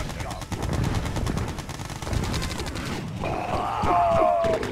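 Rapid machine-gun and battery gunfire rattles continuously in a Red Alert strategy game mission, dense bursts up close, with a unit voice and a rising electronic whine joining near the end.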